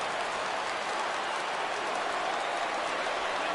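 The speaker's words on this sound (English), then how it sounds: "Crowd gets up for the 3-2." Crowd cheering in a baseball video game as the count goes full, a dense, steady roar of stadium noise filling the whole stretch without a break.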